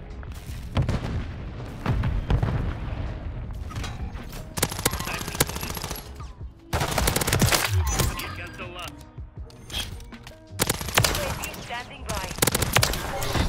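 Rapid gunfire from a pistol in a first-person video game shooter, a dense run of close, loud shots broken by brief pauses, mixed with booms and distant fire, with voices talking over parts of it.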